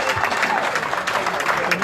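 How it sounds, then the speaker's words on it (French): Audience applause at a political party summer university gathering in honour of a partner party's vice-president, dense and continuous clapping throughout with a crowd murmur beneath. "Donc je vous demande de l'applaudir."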